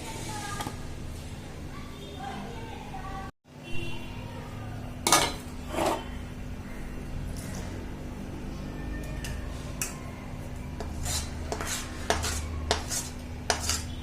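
A ladoo mixture for dink ladoo is being mixed as melted jaggery and ghee are poured over it, with repeated metal spoon clinks and scrapes against a vessel, sharper knocks clustering toward the end over a faint steady hum.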